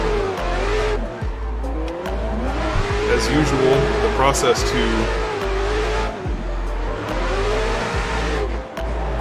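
Drift cars in a sim racing game, with loud revving engines and screeching tire squeals rising and falling in long sweeps, while someone talks over the top.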